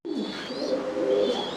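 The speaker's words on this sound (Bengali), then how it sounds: "এখানে 2 নাম্বার খাঁচায় দ্বিতীয় জোড়া কিং কবুতর।" Close, soft cooing from black king pigeons kept in cages in a pigeon loft, a steady rolling coo with a faint higher chirp above it, and no talking.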